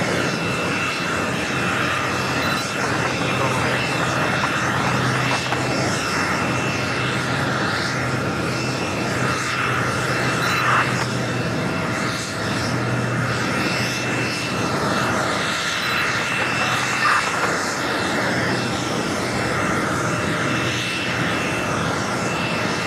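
Steady, loud airliner engine roar as a plane taxis at JFK airport, a continuous drone with a whining tone holding evenly throughout, close to the listener with no voices over it.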